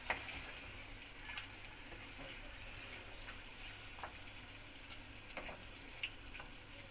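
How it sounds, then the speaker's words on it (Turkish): Peppers and tomatoes for menemen cooking in a pan, a faint, soft steady sizzle with occasional light clicks of stirring, with no voices. "Şimdi domates domateslerimizi ilave ettik. Bu şekilde ara sıra karıştırarak pişirmeye bırakıyoruz biraz."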